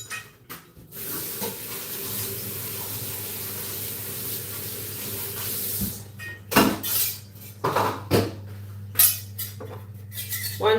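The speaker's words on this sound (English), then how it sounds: "let me rinse off my cutting board" Tap water hisses and splashes as a cutting board is rinsed in a sink, a steady flow broken near the end by several louder knocks and clatters against the basin, with no talk.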